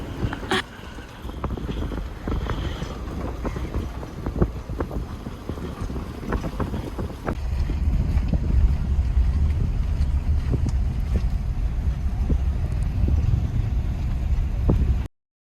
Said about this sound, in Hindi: यहाँ पे आप हवा की आवाज़ें सुन सकते हैं